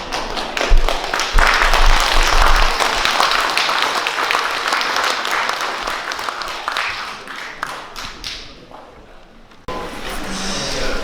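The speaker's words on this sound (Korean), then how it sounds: "큰 박수로 맞아주시기 바랍니다" Loud, sustained applause from the audience at a book launch event, with dense clapping that holds steady for about ten seconds and briefly dips near the end before resuming.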